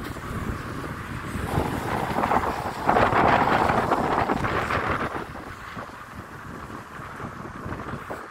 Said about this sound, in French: là il y a du vent, malheureusement.